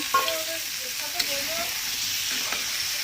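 Chicken meat hits hot spiced oil and fries with a loud, continuous close sizzle, a couple of sharp utensil clinks rising above the steady hiss, no voices.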